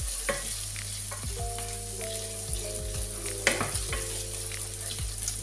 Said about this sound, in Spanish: frío un poquito los ajos